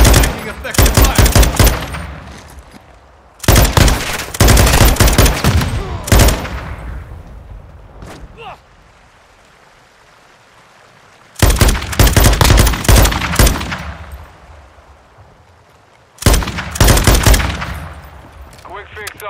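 Bursts of automatic gunfire in Call of Duty Modern Warfare II multiplayer, several loud rapid volleys separated by quieter pauses, with brief voice chatter in the gaps.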